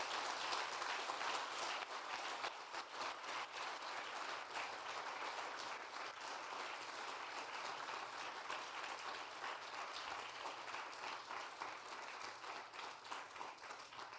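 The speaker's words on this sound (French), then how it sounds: "Je voudrais juste qu'on fasse un tonnerre d'applaudissements pour Chris" A seated audience gives sustained applause, a quiet, dense and even clapping that runs throughout in tribute to a colleague, with no voices over it.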